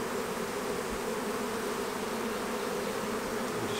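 Dense, steady hum of many honey bees in a busy beehive colony during a honey flow, a continuous loud drone filling the air close by without pause.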